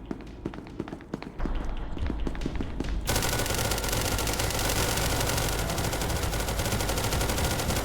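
Gunfire in SCP Secret Lab: a few scattered sharp shots and footsteps give way to a loud, sustained rapid-fire burst of automatic fire that keeps going, close and intense.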